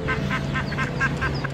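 A mother duck quacks in a rapid run of short, nasal calls, repeated about six times over a low steady background hum, fairly close and moderately loud.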